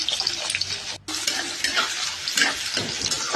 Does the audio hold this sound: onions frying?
yes